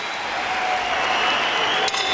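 A boxing arena crowd claps after a twelve-round title fight, a dense, sustained wash of applause close by, steady throughout with no voices over it.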